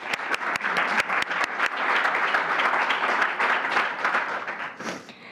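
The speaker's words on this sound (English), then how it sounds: "let's give them a round of applause for sponsoring" Audience applause for event sponsors at an evening AIA Las Vegas member meeting, a dense roomful of clapping with a few sharp individual claps up front, steady and loud, then fading out near the end.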